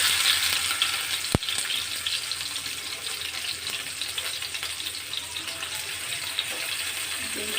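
Onions frying in oil for an Andhra spicy chicken curry make a steady, moderate hiss, with one sharp click early on and no voices.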